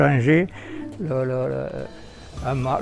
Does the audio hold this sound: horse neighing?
no